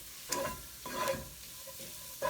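Flour cooking in a skillet with chicken for a chicken pot pie, a soft steady sizzle broken by a few brief scraping stirs of a utensil, close and moderately quiet.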